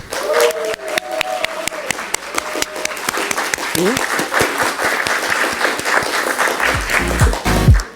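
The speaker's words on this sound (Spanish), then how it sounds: "Un aplauso" Steady applause from an audience at a teachers' network recognition ceremony fills the space, dense clapping throughout with a few voices and brief tonal sounds mixed in, swelling slightly near the end.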